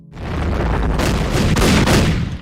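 Heavy cannon fire pounds buildings in a besieged ghetto under Nazi attack, a dense run of loud booming blasts and crashing impacts rolling together over about two seconds, with no voices.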